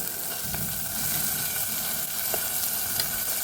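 Tomatoes frying with onions in a pan while making paneer butter masala in a hostel, a close continuous sizzle with a few soft stirring clicks, no speech.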